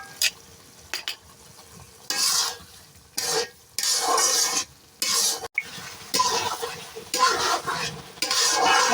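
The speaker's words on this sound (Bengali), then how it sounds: "মশলাটা আমি নেড়ে দিচ্ছি" Spice paste for chicken curry is stirred in a sizzling pan, a utensil scraping in repeated bursts broken by short pauses, close and fairly loud, with no speech.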